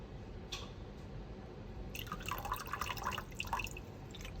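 Vinegar is poured into a pot of water for boiling eggs, a soft, close trickling and dripping splash lasting a couple of seconds after a brief drip.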